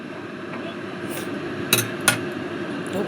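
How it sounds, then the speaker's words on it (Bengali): Metal spoon clinking against a cooking pot while stirring fish curry with water added, two sharp scrapes and knocks over a low simmering background. "এবার নেড়ে দেবো।"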